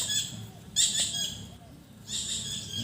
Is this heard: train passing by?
no